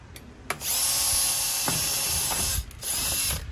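A power drill drives metal screws into a garage door bottom seal, a close whirring whine starting after a brief click and running steadily for about two seconds, then a short pause and another burst.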